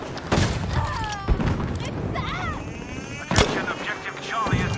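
Grenade blast and gunfire in Battlefield 5 combat, with several sharp booming shots spread through the clip over a continuous noisy battlefield bed while a voice talks.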